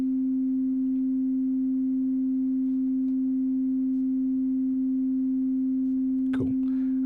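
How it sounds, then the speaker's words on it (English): A steady, pure electronic sine wave tone from Cubase holds at one pitch throughout, loud and unwavering, with a brief faint swoop near the end. "We're using sine wave because sine wave is one of the purest sounds you can have."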